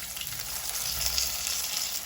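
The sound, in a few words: potatoes frying in oil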